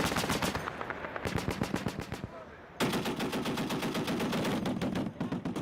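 A Marine machine gun fires armor-piercing incendiary rounds in loud, rapid bursts at a live-fire range, one burst breaking off briefly before a longer sustained stream resumes.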